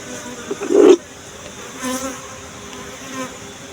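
Honeybees buzz faintly and steadily around a hive box, with one louder close buzz passing briefly near the start before settling back to a low drone.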